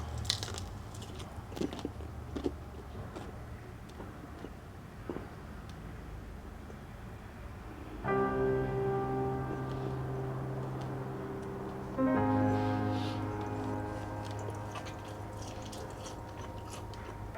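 Someone chews a bite of fried KFC chicken breast close to the microphone, with soft repeated crunching and squishing. A steady low tone comes in partway through and holds under the chewing.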